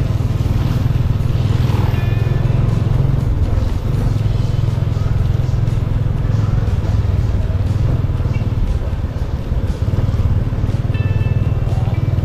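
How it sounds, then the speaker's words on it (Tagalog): A repaired motorcycle engine running, a loud, steady close-up idle rumble with continuous mechanical clatter lasting about twelve seconds, with no talking over it. "pinayos din po itong motor. Actually, umaandar naman po ito."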